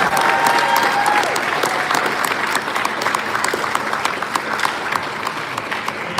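Loud, sustained applause for 8th graders from a gym crowd at a CYO 8th-grade championship basketball game between St Mary's and Holy Trinity Westfield, many hands clapping together, with a brief whistle-like tone and a bit of crowd murmur early on.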